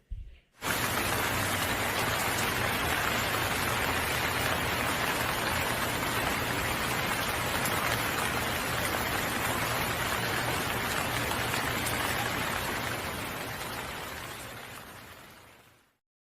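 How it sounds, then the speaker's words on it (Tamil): Steady heavy rain pours continuously as a dense, even hiss from start to finish, serving as a sound effect in a children's story about a sparrow and a tree, fading out gently at the end. "பிறகு மழைக்காலம் ஆரம்பித்தது."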